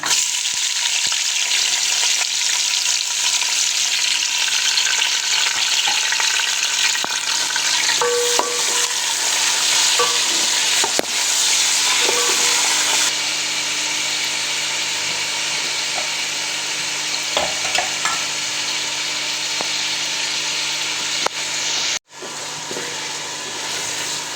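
Tomatoes, green chillies and fenugreek seeds fry in hot oil with a steady, loud sizzle throughout and occasional scrapes and clinks of a utensil, ending with a brief pause.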